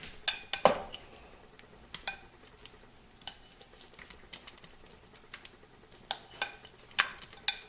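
Onions, carrots and button mushrooms go back into a pot of coq au vin and are stirred, giving scattered light clinks and taps of a utensil against the pot, faint and irregular, with no talk.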